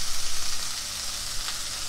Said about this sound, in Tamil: இதையும் வந்து பச்சை வாசம் போகிற வரைக்கும் நல்லா வதக்கிக்கலாம்.